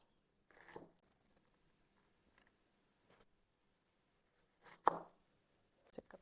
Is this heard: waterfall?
no